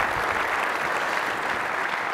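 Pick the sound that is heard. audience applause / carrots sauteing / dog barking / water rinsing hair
audience applause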